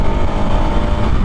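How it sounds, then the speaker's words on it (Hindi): A Bajaj Pulsar RS 200 single-cylinder motorcycle engine with its stock exhaust runs loud and close, a continuous throbbing rumble with no voices over it. "इसका सिंगल सिलेंडर इंजन होने के बाद ये वाली जो आवाज़ जो प्रोड्यूस करता है ना"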